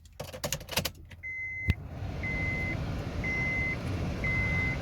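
Door lock actuator on a 2006 second-generation Honda CR-V, freshly replaced in the driver door, firing a few sharp clunks early on, followed by a steady hum and repeated short electronic beeps at regular intervals.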